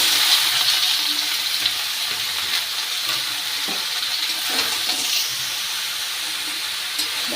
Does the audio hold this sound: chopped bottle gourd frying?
yes